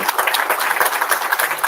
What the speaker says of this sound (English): give a big round of applause for this amazing students